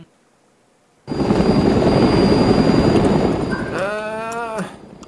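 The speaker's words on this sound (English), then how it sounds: "Why do I hear a helicopter taking off?" A helicopter taking off near an airfield is heard as a sudden loud roaring whoosh that holds for a few seconds, then fades with a brief warbling tone at the end.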